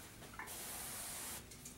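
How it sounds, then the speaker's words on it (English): A pressurized sprayer releases a band of Cimi-Shield insecticide across a headboard in a hotel room, a close, steady hiss lasting about a second that cuts off abruptly before a softer trailing spray. "Just go ahead and spray a band of material across the top"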